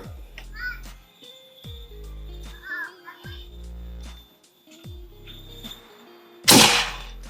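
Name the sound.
first shot of AFC PCP air rifle at a brick target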